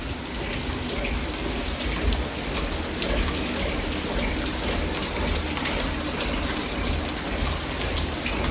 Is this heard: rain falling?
yes